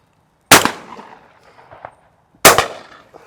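Two loud, sharp shotgun blasts fired at pigeons over a lucerne field, about two seconds apart, each followed by a short fading echo across open country.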